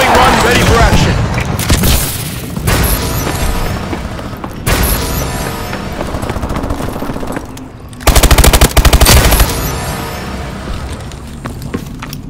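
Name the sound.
video game bombing run and gunfire, Call of Duty Advanced Warfare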